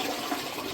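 Toilet flushing in a home bathroom, a steady rushing wash of water running through the whole moment at moderate loudness with no talk over it.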